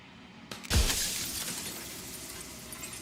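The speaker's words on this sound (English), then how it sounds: "Turning the mirror into jagged shards of broken glass." Mirror in a video game shattering into jagged glass shards: one sharp crash followed by a long, bright tinkling decay of falling fragments, heard alone.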